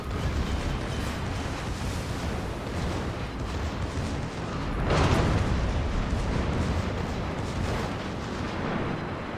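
Secondary guns of the Schlieffen battleship in a naval video game firing in a dense, continuous barrage of booms, with a louder burst of blasts near the middle and no gaps throughout.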